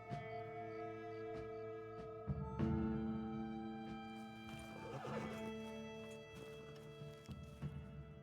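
A horse in Red Dead Redemption 2 lets out a drawn-out whinny over soft hoof clops, with tonal game music sustained underneath throughout.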